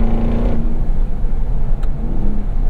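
A Ram TRX pickup fitted with an AWE 0FG exhaust accelerates hard, its engine roaring loud and close with a brief gear change early on before the rumble keeps pulling.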